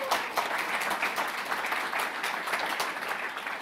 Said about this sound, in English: So big applause for Sebastian